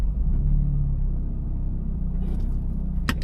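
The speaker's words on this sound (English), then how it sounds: "Just starting the car up, putting it in reverse here," A Toyota GR86 with manual clutch starting off in reverse, a low steady engine rumble close by as the clutch engages, with a sharp click near the end.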